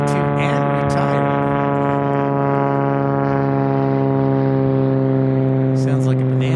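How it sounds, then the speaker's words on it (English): A Beechcraft Bonanza takes off at Tucson International Airport, its engine a loud, steady, droning roar with a rich tonal hum that holds for the whole stretch. "Sounds like a bonanza that took off there."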